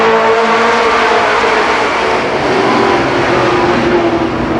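ARCA Pro 4 race cars at Columbus Motor Speedway in 1990 roar past together, a loud, steady wall of engine noise with layered droning tones that holds at full volume throughout, with no voices.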